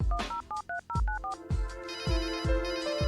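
In the adventure game Runaway, a phone number is punched in as a quick run of dialing tones, then a loud electronic phone ring repeats in steady pulses.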